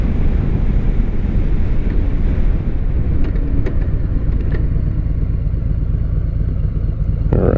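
Harley-Davidson Sport Glide with a 107 engine ridden on the road, heavy wind buffeting roaring over a steady low engine drone, loud and constant throughout.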